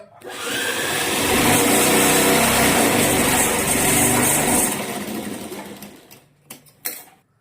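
Sewing machine running steadily for about five seconds while stitching around the folded edges of fabric for a pocket, with a loud, continuous motor whir. It then slows and stops, followed by a few faint handling knocks.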